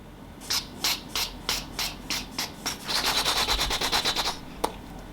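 Sandpaper rubbing along the edge of a cut mirror for an asymmetric pond-shaped wall mirror, steady rhythmic strokes that quicken into a rapid run of short rasps, close and alone.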